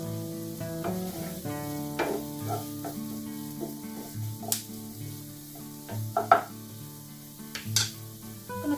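Onions sizzle steadily in a pan with bay leaves and thyme, the constant frying hiss broken by occasional clinks and scrapes of stirring, and no one talking.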